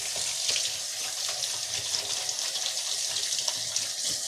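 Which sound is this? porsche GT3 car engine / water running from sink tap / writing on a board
water running from sink tap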